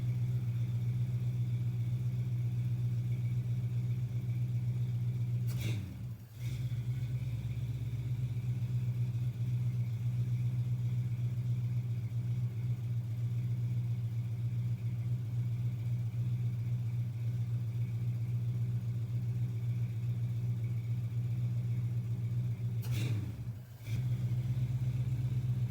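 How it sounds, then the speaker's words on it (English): A Chevrolet Nova SS engine fitted with Holley Sniper EFI idles with a steady low rumble, interrupted twice by brief throttle blips that dip and surge the note. "we're just slowly backing off on that screw and giving the throttle a little blip every time."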